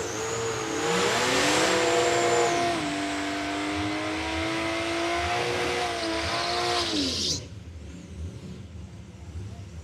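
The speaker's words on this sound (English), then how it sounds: "Parsons spun the tyres on the line here" A drag racing car spins its tyres at the start line at Palmyra Raceway, a loud sustained engine howl with rising and falling tonal sweeps for about seven seconds, then cutting off to quieter background noise.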